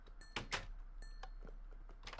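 Zombie banging on a door in a Minecraft Feed The Beast modpack world: a few loud, sharp thumps early, then softer scattered knocks over a steady low game hum.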